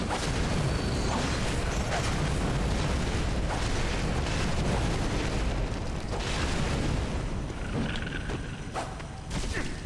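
Fire weapon attack in Bloodborne, a dense, continuous roaring and crackling blaze mixed with heavy rumbling impacts, loud and steady throughout with no pauses.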